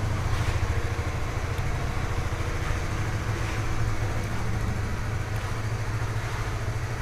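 A 2018 Honda CBR150R 150cc motorcycle engine idles close by with a steady, even low thrum that stays loud throughout, and no talk is heard.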